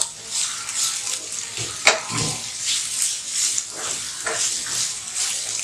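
Mint, curry leaves and dill leaves sizzle in hot oil in a pan, a steady crackling hiss with faint stirring scrapes and a brief clatter partway through.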